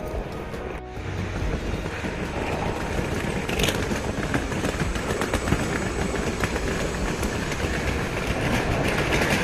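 A tram or metro rumbles past on rails near an old tunnel in Luxembourg, a loud, steady rolling roar with no talking.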